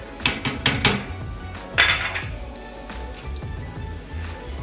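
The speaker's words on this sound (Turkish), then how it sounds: "Ramenimi tencerenin içine atacağım." Spicy Korean ramyeon going into a cooking pot, with a series of clattering metallic clinks and knocks from the pot and utensils, a cluster of sharp hits early and another bright clatter midway, then quieter handling.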